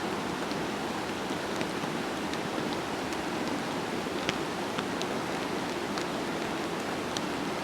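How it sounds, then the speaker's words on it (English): Rain pouring off a tent tarp at a rainy campsite, a steady dense rushing hiss of falling water with scattered faint drips and taps, unbroken and without voices. "There's floods of water coming off the tarp."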